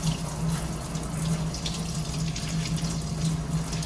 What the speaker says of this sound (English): You're going to rinse it off.